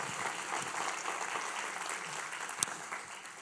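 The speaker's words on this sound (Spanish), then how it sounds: "Dale un aplauso." A church congregation applauds during a Spanish-language sermon, a dense, even wash of clapping from many hands that continues throughout at moderate volume, with no speech over it.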